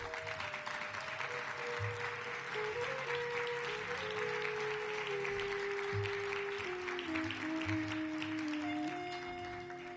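An audience at a tribute reading of Stephen King short stories claps steadily to welcome actress Gemma Pascual, a sustained wash of applause with faint tonal sounds lingering underneath.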